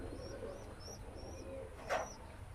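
Pakistani teddy pigeons in a loft, soft repeated cooing and chirps from nearby birds over a low background hum, with one brief louder burst of noise near the end.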